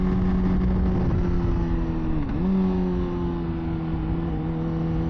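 A 2024 Honda CBR600RR motorcycle drones loudly at close range while cornering, holding a steady high engine tone that dips briefly as the throttle is rolled off and then picks back up, with no talking over it.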